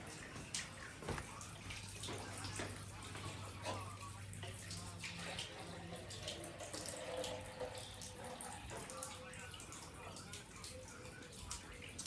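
Water runs steadily from a drinking tap at Prophet Daniel's tomb in Samarkand, a faint continuous splashing stream with a low hum beneath and soft background voices.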